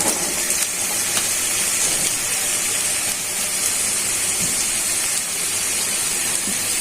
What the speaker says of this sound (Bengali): এখন বেগুনগুলো ভেজে নিব, তো বেগুনগুলো দিয়ে দিচ্ছি।